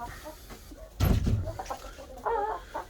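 A Brahma-like rooster lets out a short crow and some clucking sounds, fairly close, with farmyard background noise.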